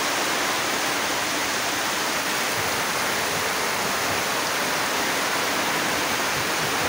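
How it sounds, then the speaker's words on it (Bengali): Torrential rain pours down during a strong storm, producing a loud, steady wall of rushing water noise that never lets up, with no speech present. "মারাত্মক জল পড়তেছে কিন্তু এবার, প্রচুর ঝড় বৃষ্টি, সবাই সামলাচ্ছে।"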